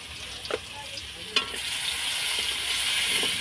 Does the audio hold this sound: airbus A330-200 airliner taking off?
no